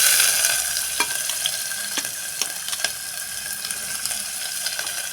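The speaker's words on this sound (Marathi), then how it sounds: "कांदा चांगला आपण लाल होईपर्यंत परतून घ्यायचा आहे." Chopped onion sautéing on low flame in oil with bay leaves and asafoetida, a steady sizzle broken by occasional spatula scrapes and taps against the pan, close and moderately quiet with no speech.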